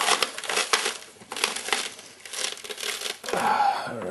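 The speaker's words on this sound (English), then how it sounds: "takes a little bit of force, but it does cut the onion" A Genius Nicer Dicer is forced down through an onion, making close crunching and crinkling bursts in uneven pulses, with a short pause before a final crunch.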